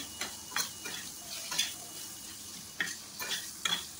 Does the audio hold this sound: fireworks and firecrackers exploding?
no